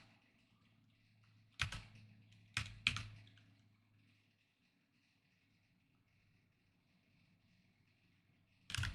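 Three sharp keystroke clicks on a computer keyboard while typing code, close and fairly loud, separated by quiet room tone with a low hum fading out afterwards.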